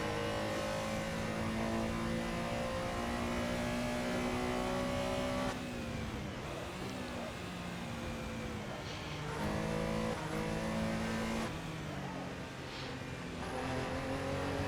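A race car engine in a Sunday Super Cup Classics sim race at Snetterton revs high and shifts up through the gears. Loud steady tones drop at each change, with clear shifts around every four to six seconds.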